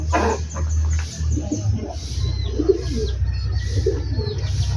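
Pet pigeons coo softly in repeated low, throaty phrases close by, with chickens clucking and light chirps among them and a steady low hum underneath.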